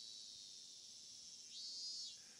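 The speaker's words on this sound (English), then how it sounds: "Lethargy induced by the voices of the cicadas." Cicadas droning in Higurashi When They Cry, a continuous shrill buzzing chorus with a rising, wavering call swelling in over the last second, fairly faint and alone.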